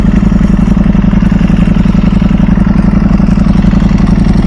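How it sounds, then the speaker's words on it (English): A Ducati or MV Agusta motorcycle idles close by, its loud, even engine beat carrying a fast rhythmic dry-clutch rattle that stays steady throughout, with no one speaking. "You guys can hear the dry clutch."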